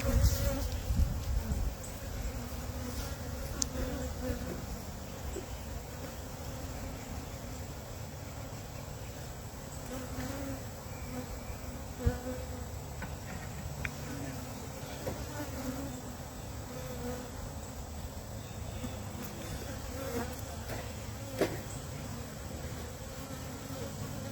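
Honey bees stream into a small hive after their queen, a thick, unbroken buzzing swarm close by, with a few faint knocks and clicks scattered through the hum.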